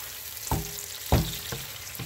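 Onions with chives frying in a pan, a soft close sizzle broken by a few distinct stirring scrapes and clacks of a utensil, fairly quiet and with no talking.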